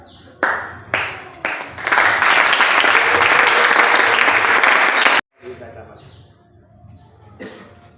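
An audience at a church gathering breaks into loud, dense applause that builds quickly after a few scattered claps, holds steadily for about three seconds and then cuts off sharply, leaving quiet room murmur.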